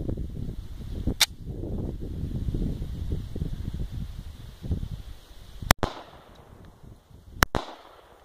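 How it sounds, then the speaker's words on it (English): Two sharp pistol gunshots from a Springfield Operator firing Federal ammunition ring out close and loud, a few seconds apart, each with a short echoing tail over steady outdoor background noise. "This is a Springfield operator shooting Federals."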